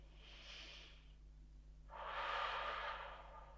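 Two soft breaths during a yoga twist, a gentle inhale followed by a longer, fuller exhale, close and quiet against a low steady hum.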